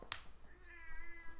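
A house cat gives a single short, sharp meow close by, followed by faint background hum in an otherwise quiet room.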